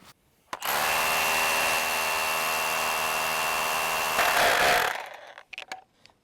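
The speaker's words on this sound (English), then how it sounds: "I finally got to use my ground rod driver" A ground rod driver driving a ground rod gives a loud, steady mechanical roar for about four seconds, then cuts off, leaving a few faint knocks.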